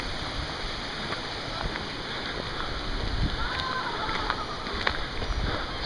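Steady rushing of a Finger Lakes waterfall stream flowing around a bend, a broad even wash of water noise that continues throughout with a few faint brief clicks on top.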